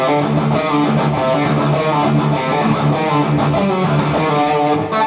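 A heavily distorted electric guitar plays a metal riff in a loud, dense stream of chugging, rapidly picked notes with sharp attacks, without any talking.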